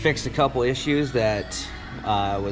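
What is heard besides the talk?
No distinct noise like a dog, phone or traffic.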